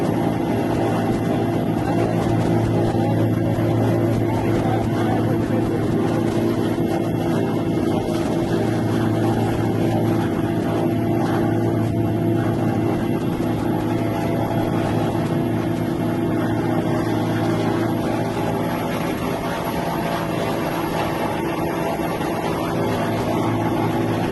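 A helicopter spools up before lift-off, a steady, loud turbine and rotor drone that holds nearly constant throughout with a low throbbing hum underneath.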